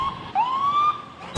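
An ambulance siren wailing, a single loud rising tone sweeping up and holding briefly, close by, cut off by a sharp thump at the end.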